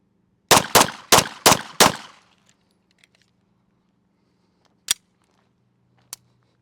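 Five pistol shots from a competition handgun crack out in a fast, even burst close by, followed by a couple of faint, isolated clicks and taps after a pause.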